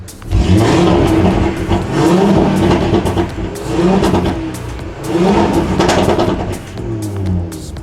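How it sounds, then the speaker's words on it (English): A stage 2 tuned Audi RS3 in dynamic mode, its open-valve exhaust revving up loudly in several throttle blips, each followed by crackling and popping as the revs fall. "If you give it a few blips, you can get some nice crackles from it."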